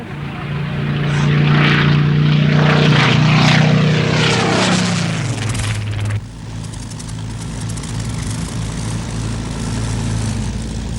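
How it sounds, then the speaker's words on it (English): A Spitfire with its Rolls-Royce engine flies past, a loud droning propeller roar that rises, holds with a shifting pitch, then drops away into a fainter steady hum. "It flies today where the Spitfire engines were made, at Derby."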